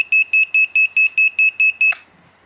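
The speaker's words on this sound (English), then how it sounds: "here's my beeper." A Tiny Whoop Beecore quadcopter flight board beeper gives about ten rapid, evenly spaced electronic beeps, close and loud, ending with a short higher chirp before going quiet.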